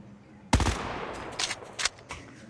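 Gunfire rings out from behind in a battle royale video game: one sharp, loud burst followed by a few fainter, more distant shots spread over a couple of seconds.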